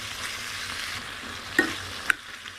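Paneer and beans stirred into masala in a pan, a soft steady sizzle with a couple of sharp scraping clinks of the spoon against the pan.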